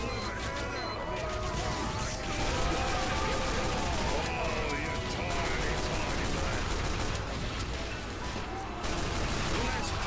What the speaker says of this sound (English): I love shooting him with pistol